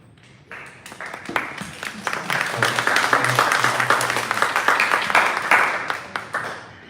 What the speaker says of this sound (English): I'm going to ask you not to applaud after comments